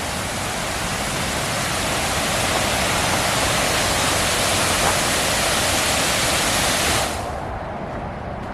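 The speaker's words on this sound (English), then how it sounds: "Waterfall." A waterfall roars beside a walking trail on an interstate day trip, heard as a steady, loud, full-bodied rush of falling water that fills the whole clip, easing slightly at the very end.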